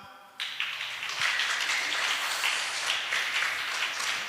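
A church congregation bursts into applause at a Sunday service, a dense wash of clapping starting abruptly and holding steady and loud to the end, with no talking over it.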